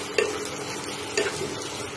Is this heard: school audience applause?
no